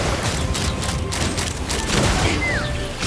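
Rapid gunfire volley in a video game battle, a dense continuous barrage of loud shots and booms filling the whole moment, with shouted orders to fire among the din.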